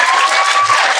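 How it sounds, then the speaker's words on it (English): A live audience at a talk-show taping with B. Simone applauds in a dense, steady wash of clapping, loud and continuous for about a second, with no voices over it. "Let's clap it up for B-SIMONE."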